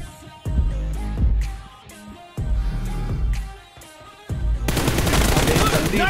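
Bursts of automatic M416 rifle fire in a BGMI team deathmatch come in loud, close volleys, three rapid strings separated by brief pauses, with the last one dense and sustained.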